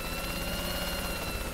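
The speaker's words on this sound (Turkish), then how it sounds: "Bak biniyorsun helikoptere" A helicopter in the video game Worms W.M.D gives a steady, dense rotor and engine drone throughout, close and unbroken, with no voices over it.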